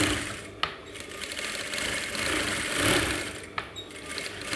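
Sewing machine running steadily while top stitching the seam allowance toward the lining of an Aso-Ebi cap, a continuous close mechanical whir broken by a couple of sharp clicks.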